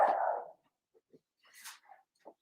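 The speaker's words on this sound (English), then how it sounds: "My dog's going nuts again" A dog barks once, close and fairly loud, and then gives a few faint whimpers and yips in an otherwise quiet room.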